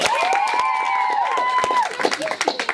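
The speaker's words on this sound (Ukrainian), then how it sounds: "Аплодисменти ще одному хлопцю." Applause and cheering from wedding guests for a boy contestant in a dance contest, dense clapping under a sustained whistle-like tone, with an announcer's voice breaking through near the end.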